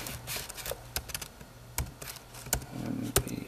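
Typing on a MacBook Air keyboard while configuring Arch Linux: quick, uneven bursts of light, close key clicks with short pauses between them.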